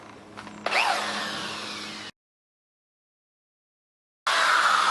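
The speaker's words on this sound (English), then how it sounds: "I have to drill my hole a little deeper, it looks like." A power drill bores through a bolt and stud on an antique Swisher zero-turn lawnmower being restored. It whines steadily for over a second, stops abruptly into silence, then starts up again close by.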